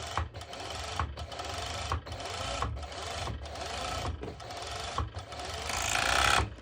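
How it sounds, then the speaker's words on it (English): An overlocker sewing machine stitches activewear shorts fabric in steady, loud bursts of rapid mechanical whirring, stopping briefly between several short runs and ending with a longer, slightly louder stretch; no one speaks. "I'm actually using my overlocker machine"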